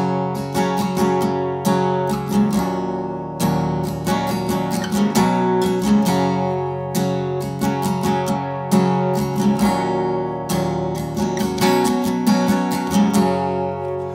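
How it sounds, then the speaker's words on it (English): Acoustic guitar strummed in a driving chorus pattern for a song, with bright, rhythmic up and down strokes, ringing chords and small percussive gaps, played close and alone without talking. "So the chorus strum pattern would sound something like this."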